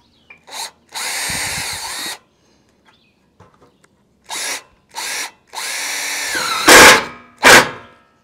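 Cordless power drill driving screws into overlapping metal roofing sheets on a sunny day, heard as several loud close-up bursts of whining motor, some short and some longer, with quiet gaps between them and no talking.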